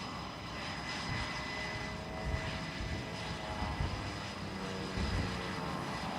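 A single-engine aerobatic propeller plane performs a hammerhead turn at show center during the SUN 'n FUN airshow, its engine droning steadily and fairly loud throughout with slight surges as it climbs and pivots.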